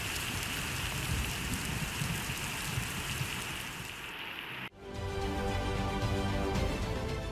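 Heavy monsoon rain pours steadily over Mumbai, a dense, continuous hiss of downpour on surfaces with a brief dip midway before the loud rush resumes.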